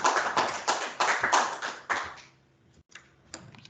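A few people clapping at a webinar on governance in Africa, a short irregular burst of claps that fades out after about two seconds, then isolated soft taps.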